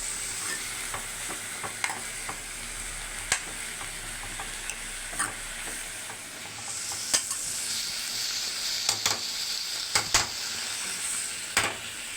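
Steady sizzle of mushrooms frying in a pan for gravy, with occasional scraping clicks from stirring at irregular moments.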